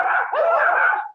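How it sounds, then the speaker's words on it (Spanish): A dog gives one loud, close, drawn-out bark that turns into a whining yelp, heard on a Spanish-language online talk. "No es mío el perro."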